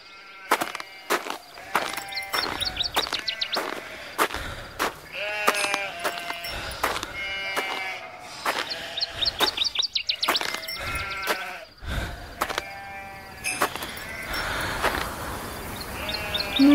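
A flock of sheep bleat over and over on stage during a musical, many overlapping calls rising and falling for the whole stretch, steady and moderately loud.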